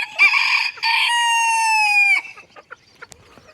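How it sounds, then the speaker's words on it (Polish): A loud, close rooster crow rings out in one long drawn cry, then fades into faint rustling and scattered small noises. "Taki kogut."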